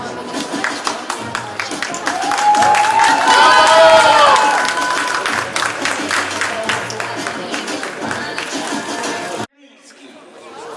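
An audience at a Polish bodybuilding and fitness championship in Mińsk Mazowiecki applauds the men's fit model category, with steady clapping mixed with crowd chatter and voices before it cuts off abruptly near the end.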